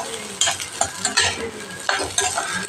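Brinjal and drumstick leaves are stir-fried in a pan, with sizzling broken by rhythmic bursts of stirring and scraping, close and fairly loud, without speech.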